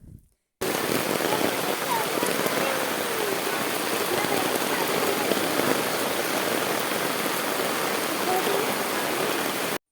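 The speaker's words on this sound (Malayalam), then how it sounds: "ഭയങ്കര മഴയായിരുന്നു" Heavy rain pours steadily, a dense, loud hiss of water drumming on surfaces that starts abruptly and continues unbroken with no voices.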